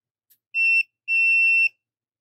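Two steady high electronic beeps from a multimeter continuity test on the wires of a 2016 Kia Soul clock spring: a short tone, then a longer one after a brief gap, clear and close with no talk.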